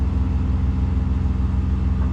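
Air suspension compressor on a 2025 Ram 3500 pickup pumping up, a steady low droning hum with an even mechanical pulse, constant and unbroken.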